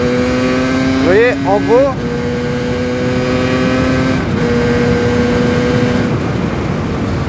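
A motorcycle shifting up without the clutch while riding, its steady engine drone dipping and rising in quick pitch steps around each gear change, heard close and loud beneath someone talking throughout.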